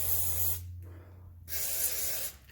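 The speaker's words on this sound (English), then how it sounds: "I'm going to get some WD-40 on these rusty bolts and then let that sit" WD-40 hisses from an aerosol can onto rusty bolts on a Chevy Tahoe suspension, in two close, loud sprays separated by a short pause.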